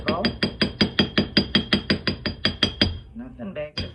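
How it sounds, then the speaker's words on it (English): Chasing hammer striking jewelry wire to harden a small wire circle: about fifteen sharp metallic taps in a quick, even rhythm, close and bright, then a brief pause and a softer scrape before one more tap. "I'm going to use my chasing hammer here and just kind of strengthen that circle."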